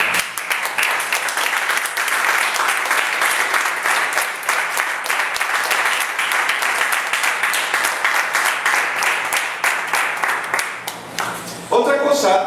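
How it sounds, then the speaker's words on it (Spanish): Applause from a church congregation during a sermon, dense rapid clapping held steadily for about eleven seconds before a voice resumes speaking. "Vamos a dar un fuerte aplauso."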